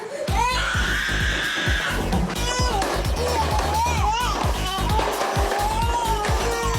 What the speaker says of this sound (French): hurle de colère dans sa chambre